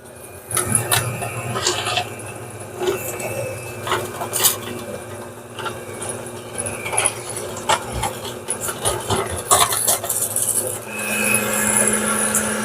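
Cookie dough being mixed with sorghum, an egg and vanilla, a loud close rhythmic scraping and thumping of the utensil against the bowl, continuing steadily with irregular knocks.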